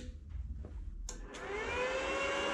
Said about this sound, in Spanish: Vamos a encender la máquina,